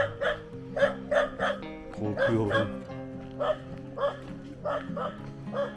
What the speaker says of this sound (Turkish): Şu an benim aklım çıkıyor çünkü köpek var.